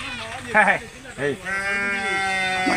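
Sheep bleat close by in a village sheep pen, several wavering cries in quick succession followed by one long sustained bleat, with a person's voice briefly mixed in.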